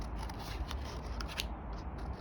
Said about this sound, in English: cut with your scissors